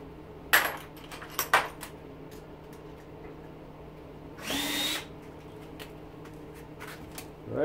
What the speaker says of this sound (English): We'll still have to undo them with a screwdriver.